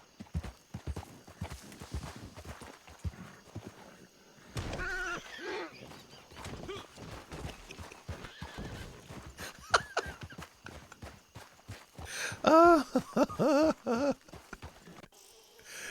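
Video game horses clop their hooves in rapid, uneven bursts, with several drawn-out neighs and whinnies rising above the clatter, close and fairly clear, no talking.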